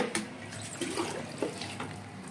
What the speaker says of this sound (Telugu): ఇందులో మనము నార్మల్ నీళ్ళు పోసేసుకోవాలి.